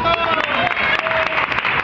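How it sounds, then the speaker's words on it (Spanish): Audience at a comedy show at the Aguascalientes fair breaks into applause, a dense, steady wash of clapping that fills the brief moment with a few voices mixed in. "¡Aplausos!"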